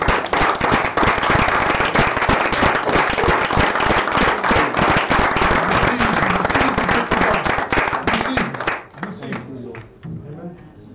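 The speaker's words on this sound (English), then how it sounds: "let's give God a hand clap" A church congregation at an ordination service gives a hand clap, dense loud applause that runs steadily for about eight seconds before tapering into scattered claps and murmuring voices.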